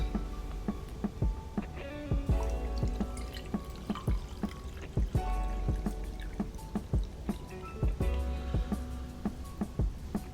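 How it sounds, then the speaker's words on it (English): Water poured from a pitcher onto a cup filled with sugar, a steady trickling pour with scattered drips and splashes close by, running throughout with no talk. "I'm going to pour this activated miracle prayer healing water on it"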